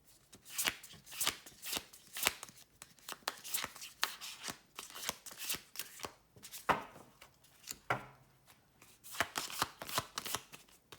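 A new, sticky deck of cards is shuffled by hand in repeated crisp riffles and taps, a quick uneven rhythm of close, soft bursts that carries on for about eleven seconds without talking.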